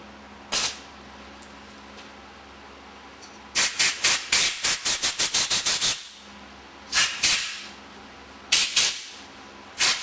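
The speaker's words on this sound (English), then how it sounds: "Maybe a little compressed air will help." Compressed air blasts into a part of a Meyer E 47 during a rebuild: loud close hissing bursts, one short puff, then a rapid run of about a dozen quick blasts, then a few longer spaced ones.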